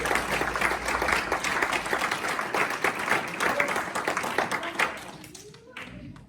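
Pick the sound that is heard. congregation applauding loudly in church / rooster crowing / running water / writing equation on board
congregation applauding loudly in church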